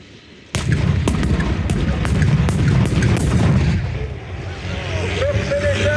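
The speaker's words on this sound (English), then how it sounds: "Get ready for some very loud bangs of explosions." Loud bangs from pyrotechnic explosions at an outdoor tanks, trucks and firepower show arena: a rapid series of sharp blasts with rumbling tails, followed by fading crowd and ambient noise.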